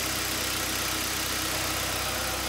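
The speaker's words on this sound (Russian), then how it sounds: "Мотор идеально работает" A Hyundai Elantra G4FC engine, rebuilt after a knocking fault, idles steadily and evenly with a close, constant mechanical hum and no talk.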